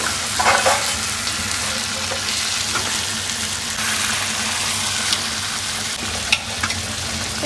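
Marinated chicken sizzles loudly in an oily kadai, a constant hiss of frying with a few stirring clinks and scrapes breaking through.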